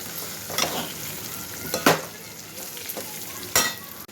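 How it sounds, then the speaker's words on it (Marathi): Spiced brinjal curry is sautéed in a pan under a continuous sizzle, with a few scraping stirs of a spoon breaking through at intervals, close and fairly loud, with no speech. "पुन्हा एक दोन मिनटं परतून घेणे"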